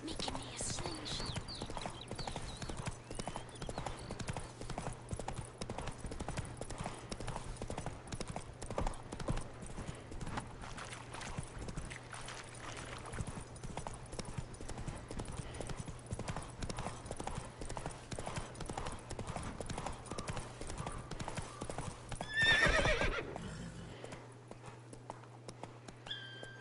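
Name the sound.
horse Roach trotting and neighing, from video game The Witcher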